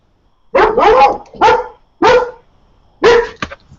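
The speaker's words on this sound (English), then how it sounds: "Sorry, guys, that's my dog." A dog barks four times in quick, sharp bursts with short pauses between, loud and close in an otherwise quiet indoor room.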